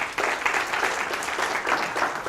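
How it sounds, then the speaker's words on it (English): Audience applause at a seminar, a dense, steady wash of clapping that stays loud and continuous for the whole stretch. "Let's give him a round of applause."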